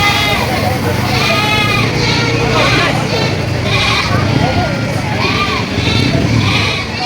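Several goats bleat repeatedly at a farm where goats are being priced and sold, their rising calls loud and close amid a dense background of people talking.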